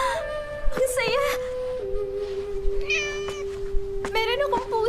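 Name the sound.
cat meowing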